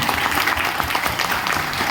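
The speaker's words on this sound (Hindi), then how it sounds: "जोरदार तालियां होनी चाहिए," Steady, loud applause from an audience at a stage event in India, dense continuous clapping filling the whole stretch with an even wash of noise.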